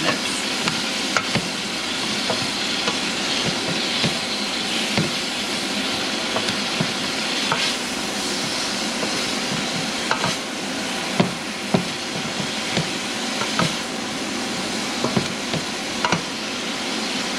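Potato, leek and carrot pieces cook in hot oil in a soup pot, giving a steady, dense sizzle and crackle with occasional scraping clicks, close and loud, with no talking.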